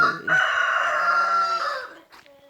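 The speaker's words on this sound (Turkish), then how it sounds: "horoz bu arada ötmeye devam ediyor" A single rooster crows nearby in Kavak village, Nallıhan, Ankara, one long drawn-out call rising and fading, followed by a brief quiet clucking sound.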